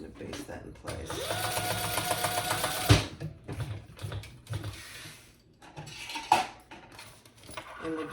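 A sewing machine bastes a D-ring tab in place on a Brix Bag crossbody, whirring steadily for about two seconds, then giving softer, shorter runs, with metallic clicks and handling sounds around it.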